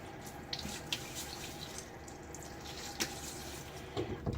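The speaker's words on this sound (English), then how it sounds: "I just use whatever comes out of the cold tap" Cold water runs steadily from a household tap into a sink with hard water, a continuous close splashing rush with small drips and clinks over it.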